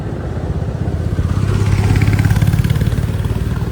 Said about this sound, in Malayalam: ബുള്ളറ്റുകാരൊക്കെ പോകുന്ന നോക്കണ്ടോ